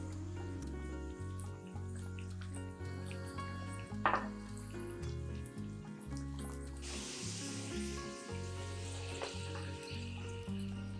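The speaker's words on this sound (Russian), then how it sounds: "Отправляю на сковородку вторую партию чебуреков. Масло горячее" Chebureki, pastries made with grated zucchini, frying in hot oil in a pan: a steady, soft sizzle and crackle runs throughout, with occasional spits and a brief louder clatter, no voices.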